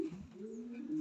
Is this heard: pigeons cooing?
yes